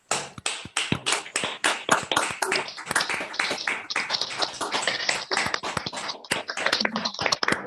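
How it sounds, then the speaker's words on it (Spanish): Participants in an online book talk clap with their microphones open, producing uneven, overlapping bursts of sharp, close handclaps and taps that continue for several seconds. "lo que podemos hacer es abrir los micrófonos y aplaudir."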